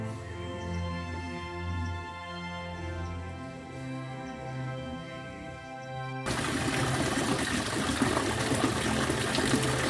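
Water pours steadily from an ancient stone statue of the goddess Lakshmi at an old Majapahit-era bathing place, a continuous close rushing flow that grows louder and more splashy partway through.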